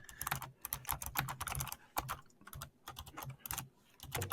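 Rapid, irregular clatter of fingers typing on a computer keyboard, close and fairly quiet, with bursts of keystrokes separated by brief pauses.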